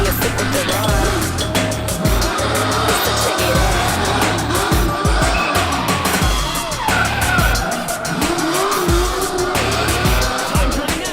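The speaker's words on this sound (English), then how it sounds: "got the car sideways through the angle box and then parked it perfectly in the Dirty Man car wash" An American muscle car drifts sideways through a drift course, its engine roaring loudly while the tyres skid and squeal continuously with shifting revs, close and dominant throughout.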